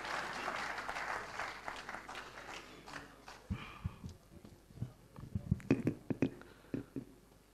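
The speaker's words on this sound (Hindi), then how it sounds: "आप तालियों से उनका इस्तक़बाल करें।" Audience clapping at a mushaira in Patiala welcomes a poet to the stage, a dense wash of applause at first that thins into scattered, sharper claps toward the end.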